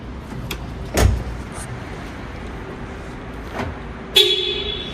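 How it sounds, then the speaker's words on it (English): A car's remote lock chirps with a short sharp beep near the end, following a door thud, against quiet outdoor background noise. "hit that remote to hear that the alarm is set"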